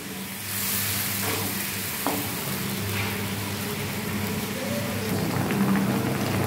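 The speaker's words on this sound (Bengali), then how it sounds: "এতে জল দিয়ে দিলাম।" Water poured into a cooking pan holding mustard paste and turmeric, a steady rushing, sizzling splash that continues throughout, close and fairly loud with no voices.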